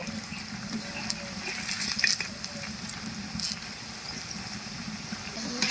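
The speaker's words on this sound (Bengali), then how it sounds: "এরপরে আমি উল্টে পাল্টে ভালো করে ভেজে নেব" Battered cauliflower manchurian pieces fry in hot oil in a pan, a steady soft sizzle with occasional crackles and light clinks as the pieces are turned, no voices.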